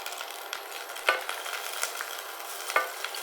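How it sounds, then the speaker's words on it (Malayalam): Ginger sautés in ghee with a steady, close sizzle while a spoon stirs through it, and two sharp metallic taps against the pan stand out. "ജസ്റ്റ് ഒന്ന് മൂപ്പിക്കാം"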